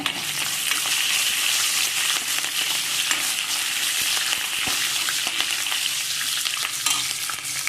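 Dried and green chillies frying in a pan with garlic, a loud, steady close-up sizzle that runs without a break while occasional stirring scrapes cut through.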